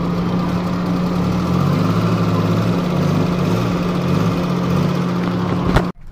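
A Suzuki Khyber car engine runs close by at a steady idle with a low, even hum, then cuts off abruptly near the end.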